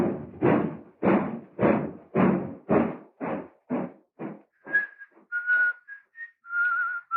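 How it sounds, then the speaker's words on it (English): A man whistling merrily on a train station platform as a radio drama effect, starting with a run of rhythmic thumping footsteps before clear, tuneful whistled notes, close and alone with no talking. "He's whistling merrily"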